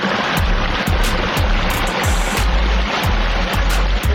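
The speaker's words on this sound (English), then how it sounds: "Beautiful waterfalls." Water from a backyard pond waterfall pours in a loud, steady rush, a close and unbroken wash with faint periodic ticks riding on top.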